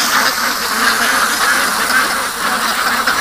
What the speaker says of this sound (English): Just listen to these ducks.